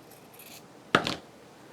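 Envelope paper rips once in a short, sharp tearing burst after a faint rustle, close and alone.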